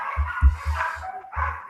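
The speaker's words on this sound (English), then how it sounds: "My dog's barking." A dog barks in short repeated bursts, four or five deep woofs at an uneven rhythm, fairly close and moderately loud, over a background of overlapping speech.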